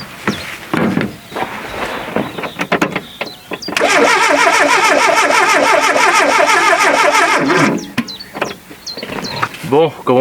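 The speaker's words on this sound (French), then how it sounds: "comme on peut entendre, le moteur il tourne un peu plus vite" A Renault Rapid F40 van engine that sat in a swamp for ten years cranks, catches and runs steadily at a loud idle for several seconds before cutting off, with a voice speaking briefly before and after.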